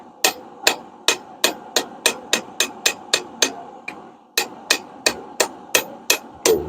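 Steady hammer blows on hot steel while forging a spring fuller, about eighteen sharp, evenly spaced ringing strikes up close with one brief pause midway, no talking.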